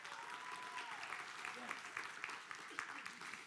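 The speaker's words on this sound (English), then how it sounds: "Give them a round of applause for being here today." A church congregation applauds a couple of foster parents, a quiet, even round of clapping with a brief tonal whine near the start and possible murmured voices.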